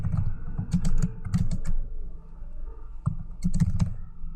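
Close, clear keystrokes on a computer keyboard come in quick bursts of clicky taps, separated by short pauses.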